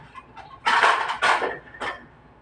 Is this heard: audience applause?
no